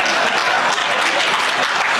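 A rally crowd breaks into dense, continuous clapping for about two seconds, loud and close, with no pause in the applause.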